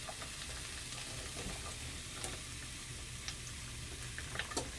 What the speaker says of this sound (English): while that's sauteing up, we're gonna go ahead and start rendering our meat